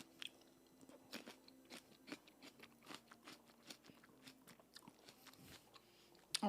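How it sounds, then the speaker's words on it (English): Someone bites into and chews a crunchy snack up close, a series of sharp crackling crunches in an irregular rhythm, quiet overall against faint background hum. "These are so crunchy."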